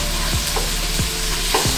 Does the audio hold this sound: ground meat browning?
yes